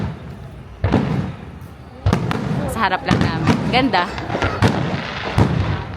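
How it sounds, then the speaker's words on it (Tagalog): New Year fireworks explode close by in Australia, a series of sharp loud bangs and crackles at irregular intervals, with people talking over them. "Tagal ko nang di nakakita ng fireworks."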